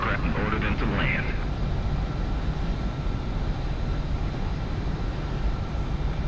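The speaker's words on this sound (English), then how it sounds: "Mobius 1, you have permission to take off right after Omega 11" Fighter jet engines roar continuously during takeoff in the Ace Combat 7 flight game, a loud low rumble with a brief whine near the start, and radio-style voices talk over it.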